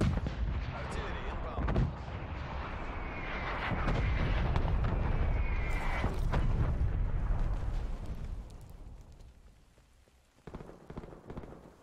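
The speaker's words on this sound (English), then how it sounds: "Artillery targeting detected." Incoming artillery strike in Black Ops Cold War: a dense, loud barrage of rumbling blasts and crackling impacts builds over several seconds, then fades into softer debris-like patter, with a game voice announcement in the mix.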